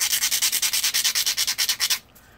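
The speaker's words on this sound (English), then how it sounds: "you want to use your sander to shape" A sander rasps rhythmically across plastic while shaping a custom hood, about sixteen close, loud strokes in quick succession. It stops abruptly into near silence, and no one talks.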